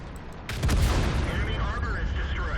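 In World of Tanks, a tank destroyer's main gun fires one heavy, close blast that booms and then rumbles with a lingering metallic echo and game effects. A voice follows the shot.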